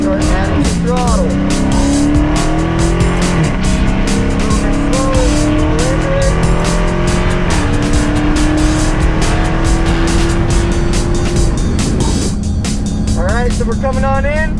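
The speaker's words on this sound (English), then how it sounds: "We're gonna come through our corner. We're gonna start adding some throttle." Race car engine accelerating out of a corner, revving steadily upward in pitch through repeated gear pulls, loud and close, with tire noise and a voice talking faintly underneath.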